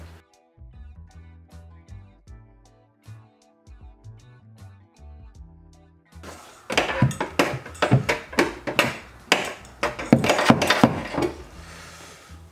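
Repeated hard knocks from hammering out a dent on the inside of a crashed Chevy Volt body panel during paintless dent repair, sharp and close in the second half after quieter tapping and tonal sounds.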